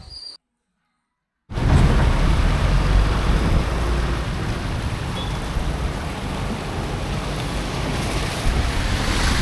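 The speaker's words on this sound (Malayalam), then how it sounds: "നല്ല കാറ്റും പെയ്യുണ്ട്" Strong wind and heavy rain over floodwater from an overflowing river near Pattambi, a loud continuous roar with buffeting wind that starts abruptly after a brief silence and holds steady.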